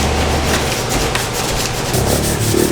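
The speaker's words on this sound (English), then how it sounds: "Sanding single stage paint is the nastiest thing ever." Sandpaper of 180 grit scrubs steadily over pitted single-stage car paint in an engine bay, a close, continuous coarse rasping with no pauses.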